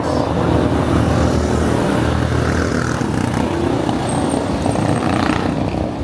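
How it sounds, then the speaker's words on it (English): A loud motorbike on a road on the slopes of Mount Kenya, its engine roaring close and steady throughout amid road noise. "What is it with loud motorbikes?"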